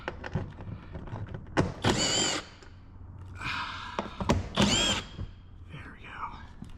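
A power tool backs out the Aero Shield bolts on a Tesla undercar panel, giving two short, loud whirring bursts separated by quieter handling noise.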